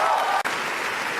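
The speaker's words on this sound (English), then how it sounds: "Yes, give yourself a round of applause, please." Graduation audience applauding, a brief dense wash of claps from a large crowd that dips for an instant and continues, with no voices over it.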